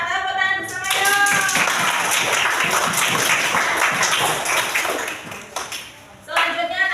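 Children clap together in a classroom, the quick scattered claps building into a steady wash of applause after a teacher speaks, then fading near the end as her voice returns.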